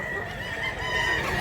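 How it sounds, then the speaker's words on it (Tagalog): A rooster crows and clucks loudly at close range, a short strained call over a steady bright tone, with no voices. "Wapong manok"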